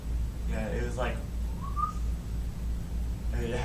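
A human voice imitates a windy, whistling sound heard during a paranormal investigation, giving breathy rising whistles in short bursts, close and fairly quiet, between brief spoken words.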